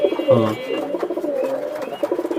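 Pigeons in a cage coo close by, a throaty opening call followed by a run of softer rolling coos, with faint background bustle.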